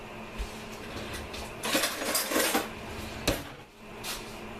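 A metal spoon clinks against a bowl while scooping cold process soap batter. The taps are faint and scattered, with a brief louder scraping clatter in the middle and a sharp knock near the end.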